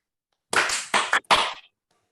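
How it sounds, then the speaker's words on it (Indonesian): Three sharp hand claps from a group, sounding in quick succession: two close bursts, then a brief gap before the third, with silence around them. "Tepuk tangan 3 kali."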